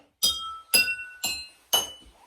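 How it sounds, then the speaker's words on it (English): Four sharp taps strike drinking glasses filled with water to different heights, each giving a bright ringing clink at a different pitch, evenly spaced and close. "I'm going to tap those glasses so that you can hear what they sound like"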